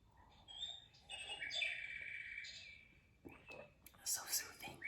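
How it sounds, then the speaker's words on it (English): A cuckoo clock sounds its bird call at eleven, with soft, high chirping tones in a quiet indoor room. A whispered voice runs alongside it. "My cuckoo clock."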